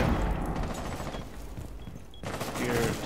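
Video game gunfire crackles in a quick volley of shots, fairly faint and brief, with a short lull before more firing resumes.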